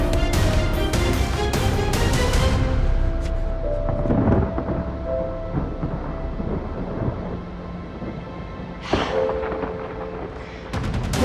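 Heavy thunder rolls and crackles loudly before the rain in an action film, with sharp claps at first fading into long, deep rumbles, then a fresh crack near the end. No one speaks.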